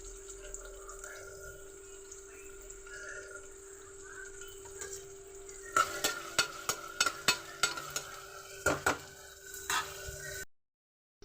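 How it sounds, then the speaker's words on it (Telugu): Onion pieces frying in oil for a cucumber mutton curry: a quiet, humming kitchen backdrop at first, then a soft sizzle and a quick run of sharp spatula clicks and scrapes near the end before the sound cuts out. "ఉల్లిపాయ ముక్కలు బాగా ఫ్రై అయిపోయినాయండి"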